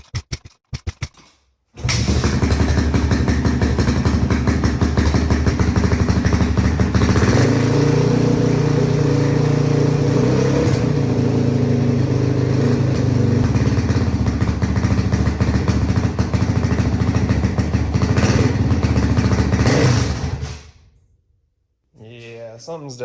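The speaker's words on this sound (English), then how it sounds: "it is a kickstart, so I can just kickstart it." A Honda CRF450X dirt bike left sitting for ten years, with a suspect carburetor, kicks to life and runs roughly. A loud, rough engine note holds close and steady for about eighteen seconds with uneven revving, then cuts out abruptly.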